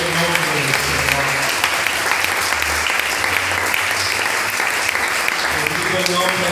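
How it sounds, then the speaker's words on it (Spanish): A church congregation applauds loudly and steadily for the full stretch, dense clapping filling the room while a voice speaks over it in places. "¿por qué no le doy un mejor aplauso a Jesucristo?"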